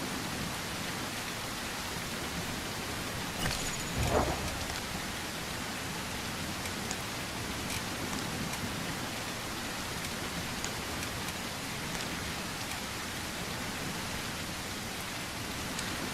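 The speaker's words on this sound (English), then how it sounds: "Why is the rain so bloody loud?" Steady, dense rainfall in the video game The Isle hisses continuously throughout, even and unbroken, with one faint thump partway through and no voices.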